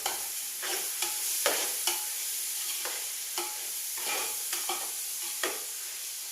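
Rice roasting in a pan sizzles softly while a spoon stirs it in regular scraping strokes, each stroke a brief rasp over a constant low hiss.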